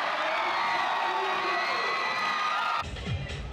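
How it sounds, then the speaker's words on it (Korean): Around four thousand home fans pack Chiak Gymnasium for a Wonju Nara basketball playoff game, cheering along with cheerleaders in a loud, sustained roar that cuts to a quieter crowd near the end. "치악체육관을 가득 메운 4천여 홈관중들은 치어리더의 생동감 넘치는 율동과 호흡을 같이하며 힘찬 응원을 벌여"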